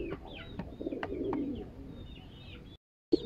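Soft cooing and thin chirping calls from birds, repeated over a low background murmur, cutting out briefly near the end before resuming.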